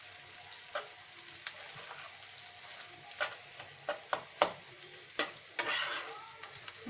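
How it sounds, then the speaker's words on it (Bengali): Rohu fish roe frying in a pan and being stirred over and over to keep it loose and crumbly: a steady soft sizzle broken by a run of sharp scraping spatula strokes, close by, with no talking. "আমরা নেড়ে নিচ্ছি এটা"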